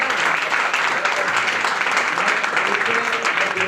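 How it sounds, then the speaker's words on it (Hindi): Workshop audience in Mahesana clapping loudly and continuously in a dense, even roar, with voices faintly audible beneath the applause. "जबरदस्त ताली"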